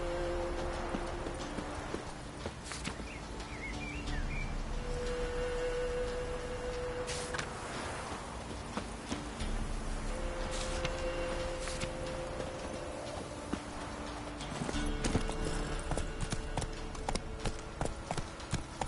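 A horse gallops in The Witcher 3, its rapid hoofbeats drumming steadily and close for the whole stretch, with occasional game tones and a brief whinny-like cry over the running rhythm.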